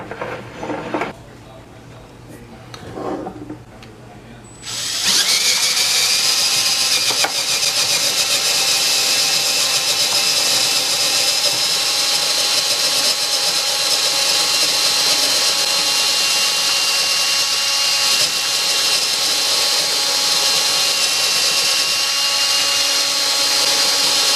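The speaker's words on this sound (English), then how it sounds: "It's aluminum, so it drills through real easy." Power drill boring a quarter-inch hole through aluminum for a camera mount, starting abruptly after a few seconds of quiet and then running as a loud, steady, high-pitched whine with no pauses.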